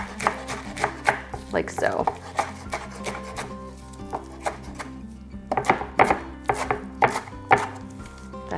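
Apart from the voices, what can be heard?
knife slicing bundled kale into ribbons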